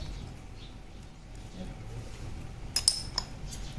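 A spoon stirring a wood apple sherbet with sugar and black salt, a few quick metallic clinks against the glass near the end over a quiet background.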